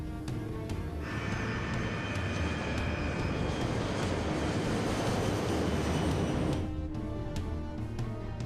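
The White Knight 2 aircraft, carrying its spaceship cargo, accelerates down the runway for takeoff with a loud, steady engine roar that swells and holds for several seconds, then cuts back near the end.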